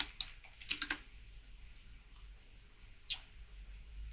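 Typing on a computer keyboard in a quiet room, with short bursts of soft clicks near the start and one more cluster a few seconds later over low background hum.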